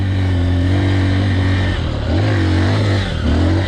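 Honda XR150L motorcycle climbing an off-road hill in first gear on throttle alone, its mid-pitched engine droning loudly and steadily close by, revs dipping and rising with a wavering pitch partway through.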